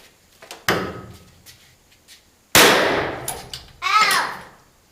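Powder-actuated nailer fired with a .22 shell while framing interior walls in a pole barn, giving a sharp, loud close bang with a ringing tail, preceded by smaller handling clatter and followed by another impact-like burst.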